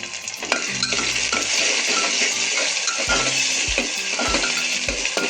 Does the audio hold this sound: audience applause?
no